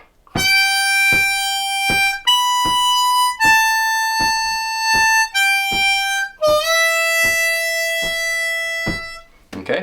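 Harmonica playing the solo lick from a song, starting on the 5 draw, as a slow run of sustained reedy notes with short breaks between phrases, close and clear, with light tapping beats beneath.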